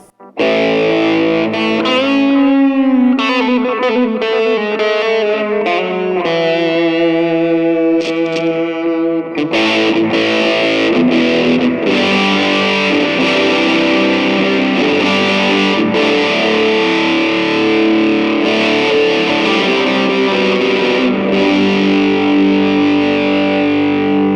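An electric guitar plays through a GP200 multi-effects unit with heavy distortion and echoing delay, first a series of bending notes, then a denser driven passage with repeating trails.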